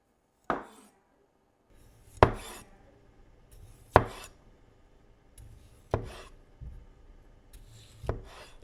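Japanese gyuto chef knife cutting the tip off a sweet potato: five or six separate sharp chops against a cutting board, spaced about two seconds apart, close and fairly quiet.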